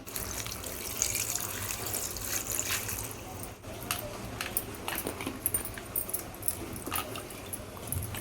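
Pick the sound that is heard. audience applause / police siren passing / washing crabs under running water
washing crabs under running water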